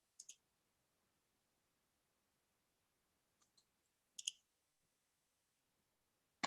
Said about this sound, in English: I'm trying to fix something on my keyboard here